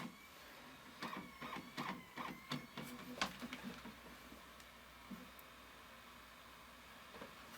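An external Blu-ray drive spins up, whirring and clicking in a rapid ticking sequence, then settles into a faint steady hum, quiet and close.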